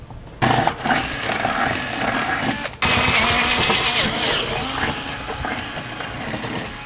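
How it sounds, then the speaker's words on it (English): A power drill with a 5/16 bit whirs steadily and loudly as it enlarges holes, stopping briefly twice before starting up again. "we'll enlarge our holes from the outside edge with a 5/16 drill bit"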